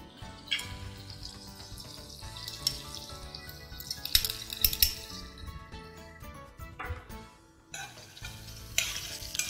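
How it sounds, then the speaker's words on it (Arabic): Calamari stir-fried with garlic in a pan, with clinks of a utensil against the pan over a faint sizzle, busy and uneven, with no talk. "نقلب الكاليماري في الثوم كده عشان ريحته تطلع وتبقى جوه الكاليماري"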